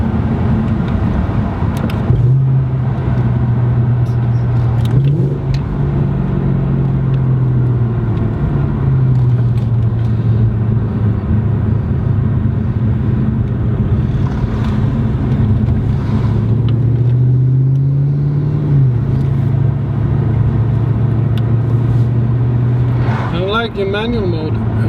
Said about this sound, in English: You can actually bang the rev limiter on the car.